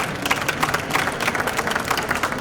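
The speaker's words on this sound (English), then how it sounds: "please join me in a big round of applause for our panelists" A conference audience applauds the panelists after a healthcare technology talk, a steady, moderately loud round of clapping from many hands that fills the room without pause.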